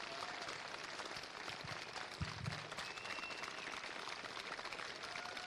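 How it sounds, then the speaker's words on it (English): Faint, distant crowd applause at an outdoor Memorial Day parade ceremony in Peabody, Massachusetts, a thin wash of clapping with a few louder thumps near the middle. "Please join me in a round of applause for this great American and hometown hero."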